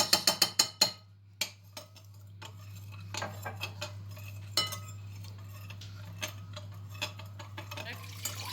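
Several quick metallic clinks open, then a spoon scrapes and taps around a pot, stirring in tomato paste, in scattered strokes over a steady low hum.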